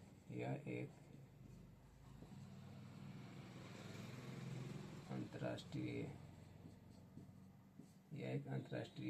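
Chalk or marker scratches across a board during a physics lesson in a classroom, in short bursts of close, gritty strokes, with a teacher talking in between.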